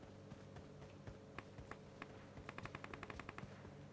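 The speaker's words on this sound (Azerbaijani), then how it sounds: "Burada atışma gedir." Rapid gunfire in the mobile battle game PUBG Mobile crackles faintly at a distance, scattered single shots giving way to a quick automatic burst near the end.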